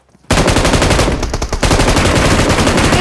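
Rapid automatic gunfire in the PUBG Mobile battle royale shooter, a loud, dense burst of fast shots that starts abruptly and continues without pause, close and alone.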